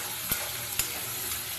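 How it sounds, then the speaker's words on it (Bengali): Onion, garlic and ginger paste stir-frying for a crab curry, a steady soft sizzle with two brief clinks of the spatula against the pan. "দিয়ে আবারও ভালো করে নেড়ে চেড়ে কষিয়ে নিতে হবে।"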